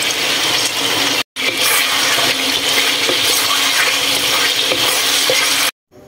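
Steady splashing and sizzling as water is poured into a hot pan of chicken in oyster sauce, a continuous rushing wash of noise with two brief cuts of silence.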